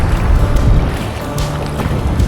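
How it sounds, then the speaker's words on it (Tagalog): Sea waves slap against a small boat from both sides near an island, with a loud rushing wash of water and wind noise over a continuous low rumble. "Kaliwat kanan nanggagaling yung wave."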